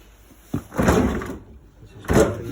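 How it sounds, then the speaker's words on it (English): Doors of a black Hoover French door fridge freezer opening and closing, two separate thumping bursts of door movement and seal contact close by, with a quiet pause between. "These are the freezer doors."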